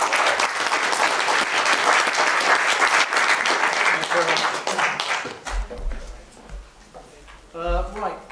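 Audience applause for a speaker at a radio conference, dense clapping from a crowd for several seconds that fades out, followed by someone speaking alone.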